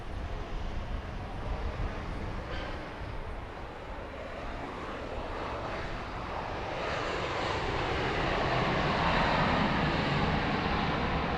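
A Southwest Boeing 737-700 at Dallas Love Field roars steadily, its jet engine noise building in loudness toward the end as the plane nears, heard alone without talk.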